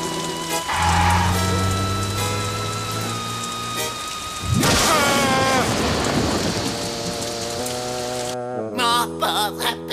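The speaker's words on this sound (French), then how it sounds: "Il pleut des hallebardes." Heavy rain pours steadily in a children's cartoon, a loud, continuous hiss mixed with thunder-like rumbles and music, ending with a brief, sharp sound effect.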